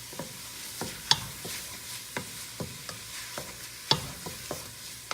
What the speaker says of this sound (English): And then we'll give that a good stir.